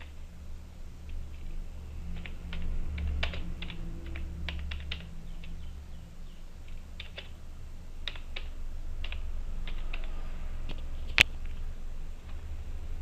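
Keys clatter on a computer keyboard as Tamil text is typed with Google Tamil Input: soft, close, irregular clicks in short bursts and pauses, with one sharper snap near the end and no voices.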